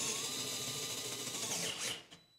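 A Dewalt DCF682N1 cordless screwdriver spins a 23/64 drill bit into a workpiece, a steady whining motor that holds for about two seconds, then bogs down and cuts out as it binds.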